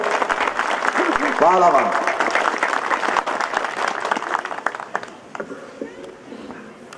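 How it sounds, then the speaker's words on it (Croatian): An audience at a commemoration ceremony in Zavidovići applauds survivors of the camps, loud sustained clapping that slowly thins out, while a person briefly speaks over it. "Molimo vas, pozdravite ih sa velikim aplauzom"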